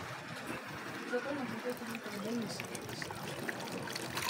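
A washing machine drains water with a soft, steady trickling rush at low level, with faint background sounds and no clear talk over it.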